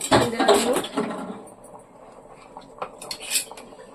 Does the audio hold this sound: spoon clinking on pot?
yes